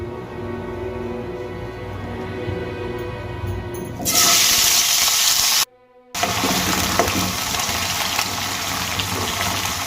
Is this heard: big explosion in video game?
no